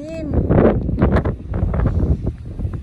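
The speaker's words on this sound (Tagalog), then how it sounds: "Ang lakas ng hangin." Strong wind buffets the microphone on a high cliffside viewpoint in Challis, Idaho, a steady roar and rumble with gusty swells under continual excited talking.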